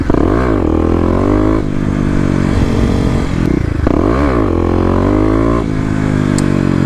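A Kawasaki KLX250 fitted with a 13-tooth front sprocket rides through city streets and a mall lot, its single-cylinder engine revving and rising through gears in loud, close sweeps with brief dips between shifts.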